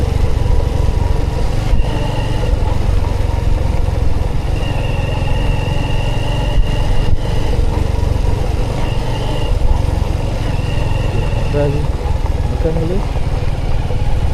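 A motorcycle runs steadily with a continuous, loud engine drone and road rumble throughout, as if heard from the bike while riding, with faint higher whines drifting in and out.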